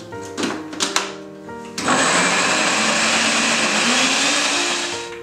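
An electric blender whips chocolate cherry protein batter with baking powder, a loud steady whirring drone that kicks in after a couple of seconds of light clatter and runs on evenly.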